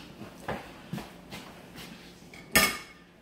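A 9-inch pie pan handled on a counter: a few soft knocks at an even pace, then one sharp metallic clatter, close by with no talking.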